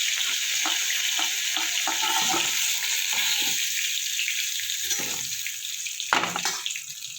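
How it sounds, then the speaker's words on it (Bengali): Flat beans frying in oil in a pan give a steady sizzle, with scattered clicks and scraping stirs of a utensil breaking through the hiss. "শিমটা আমার অনেকটাই"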